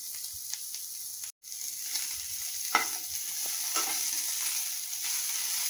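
Potato batons frying in oil on a low-medium flame give a steady, quiet sizzle, broken by a few sharp clinks and stirring scrapes.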